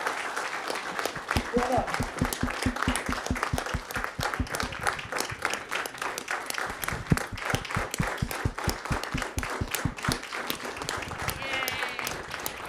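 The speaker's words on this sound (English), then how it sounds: "How about a round of applause?" People at a village board meeting give a round of applause, with sharp, rhythmic individual claps standing out over a scattered crowd, and voices talking briefly through the clapping.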